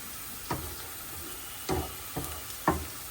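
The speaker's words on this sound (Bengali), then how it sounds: "তো পেঁয়াজগুলো এখন ভাজা ভাজা হোক।" Coarsely chopped onions and garlic frying in oil in a pan, a soft, steady sizzle broken by four sharp clicks or taps of a utensil against the pan, spaced irregularly and close by, with no voices.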